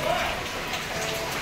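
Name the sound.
monsoon rain falling outside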